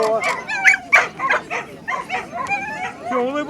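At a Russian coursing championship prize-giving, whippets and other sighthounds give a rapid run of loud, close barks and yips, with a few whimpers, and people talk over them.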